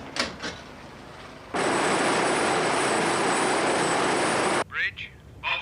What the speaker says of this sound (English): there's a naval helicopter out here